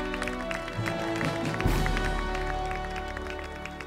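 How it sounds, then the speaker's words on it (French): Audience applause during a Miss RD Congo pageant show, a dense steady wash of clapping with music underneath, swelling briefly midway and staying loud to the end. "Applaudissements pour Stella."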